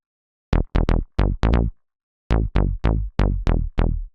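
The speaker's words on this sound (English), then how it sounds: "Bass Groover works really well in minimal house with groovy bass lines" Bass Groover, a groovy minimal house bass sample, plays short plucky low notes in a syncopated pattern, a quick cluster of four, a pause, then five more, clear and unaccompanied.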